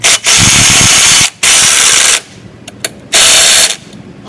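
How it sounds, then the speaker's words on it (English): Tightening the handlebar bolts on a Razor Eco Smart Metro electric scooter during assembly, heard as loud, close mechanical bursts of several seconds separated by short pauses, plus a few brief clicks and no speech. "First, let's tighten up the handlebar."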